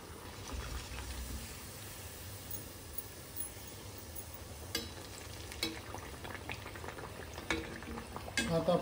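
Pumpkin gharge, sweet fried dough rounds, frying in hot oil, a steady low bubbling sizzle throughout with occasional sharper crackles and spatters toward the end; no talking.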